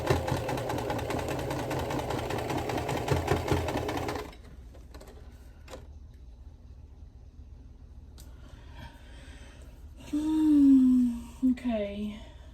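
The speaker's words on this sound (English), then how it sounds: "it's sewing smooth as all get out when there's no seams to go over" A sewing machine runs steadily, stitching smooth cotton fabric for a Boy Gnome quilt block, a loud continuous mechanical whir for about four seconds before stopping, followed by quieter handling noises and a brief voice-like sound.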